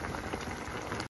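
Steady bubbling and gurgling of plain water at a rolling boil with broccoli and spinach, close and continuous, ending abruptly.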